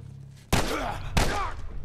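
Two sharp gunshots from The Last of Us crack out about half a second apart, each loud and close with a booming tail that rings on under faint background sound.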